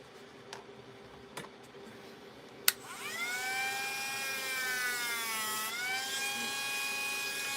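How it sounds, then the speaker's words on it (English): A Dremel rotary tool starts after a few faint clicks and a sharp tap, spinning up to a steady high-pitched whine that dips briefly in pitch under load before recovering, close and continuous. "these little Dremel tools, they come in so handy"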